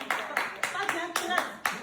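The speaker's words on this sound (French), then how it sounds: "c'est applaudi." Applause at a gathering honouring a king: quick, rhythmic bursts of clapping at close range, with voices mixed underneath.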